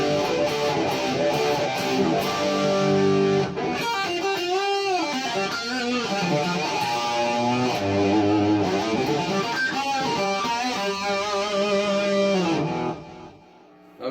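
Electric guitar played through distortion and delay on the bridge pickup of a Chibson Ace Frehley Les Paul, sustained driven chords and lead lines with echoing repeats, loud and continuous for about thirteen seconds before fading.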